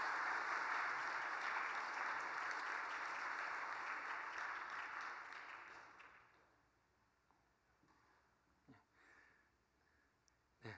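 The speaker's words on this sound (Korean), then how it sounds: "박수 보내주세요" Church congregation applause at a course graduation service, a full burst of clapping that carries for about six seconds, then dies away into near quiet with a few scattered claps.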